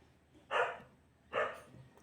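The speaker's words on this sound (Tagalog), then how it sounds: "Ingay ng aso, no?" Two distinct barks from a dog, spaced about a second apart, moderately near against a quiet background.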